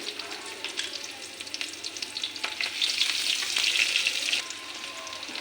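Whole cumin seeds fry in oil over a low gas flame for tempering, giving a steady close crackling sizzle with tiny pops, rising slightly midway and easing off toward the end.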